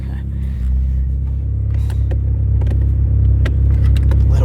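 Tuned Mazda Miata engine driving with the hard top off, a steady loud low rumble holding throughout with faint clicks and rattles on top.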